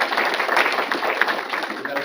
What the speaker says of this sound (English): that applause is well deserved